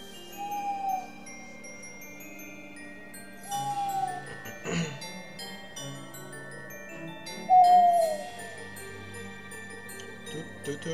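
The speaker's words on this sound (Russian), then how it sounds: "Сова." Owl calls in the horror video game Frosty Nights come in three spaced, fairly faint hoots over a quiet, tonal ambient backdrop, with a brief thud in between.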